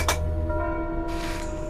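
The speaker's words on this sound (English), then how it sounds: "Foreboding bells. Yep, those are very foreboding bells." Bells toll in the Frostpunk video game, a bright struck tone at the start that rings out into sustained, layered tones, with a second swell of shimmer near the end. The bells are loud and heard alone, with no talk over them.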